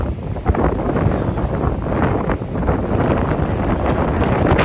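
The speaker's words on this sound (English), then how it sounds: "As you can tell by the noise, I'm sure that there's quite a wind this morning" A strong morning wind buffets the microphone outdoors beside a beehive in Jefferson City, making a loud, continuous rumbling roar with rough gusts and no pauses.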